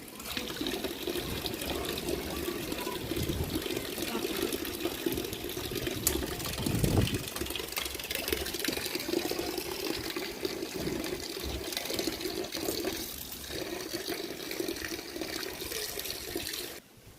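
Water runs steadily from a tap into a sink at close range, a continuous broadband rush lasting throughout with little change in level.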